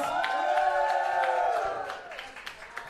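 A wrestling crowd at an 880 Wrestling show cheers and claps for a performer, loud and steady for about two seconds before thinning out, with scattered whoops and claps trailing off at the end.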